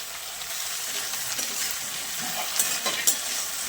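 Beans and eggplant with a little salt frying in a pan, a dense close sizzle with stirring scrapes and a few light utensil taps near the end, no talk.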